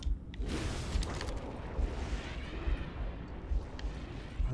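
Gunfire rolls through the video game Halo: Combat Evolved as scattered shots and booming blasts, moderately distant and muffled, with a few sharper pops standing out over a steady low rumble.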